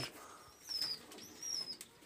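Pigeons kept in a loft, including a male and female pair, giving soft coos and chirps, with a brief flutter of wings, faint over a quiet, lightly hissing background with no talk.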